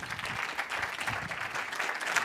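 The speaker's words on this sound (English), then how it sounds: "Can I get a big round of applause for Edward van der Pol?" An audience at a university challenge grand finale claps in steady, moderately loud applause for a few seconds with no voices over it.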